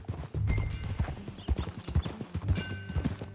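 Horse hooves clip-clopping at a steady riding pace in the Red Dead Redemption 2 video game, close and fairly loud, with game ambience around the rhythmic hoofbeats.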